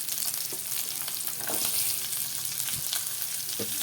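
Garlic and small shallots frying in a pan, a steady close sizzle with scattered crackles and faint stirring scrapes, no voices.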